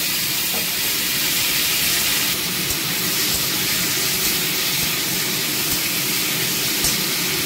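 Tomato hits hot oil tempered with dried red chilli and five-spice, giving a loud, steady sizzle and hiss that holds evenly from start to finish.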